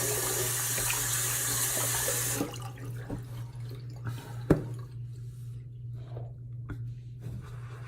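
Water runs steadily from a tap for about two seconds to wet the face before a wet shave, then stops, leaving soft splashing and dripping sounds.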